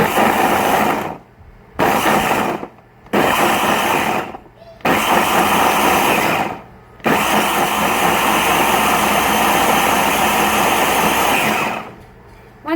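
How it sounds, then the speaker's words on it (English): A Ninja blender chopping fresh horseradish roots whirs loudly in short pulses, stopping and restarting several times before running in one longer continuous burst. "you kind of want to just pulse your blender or whatever unit you're using"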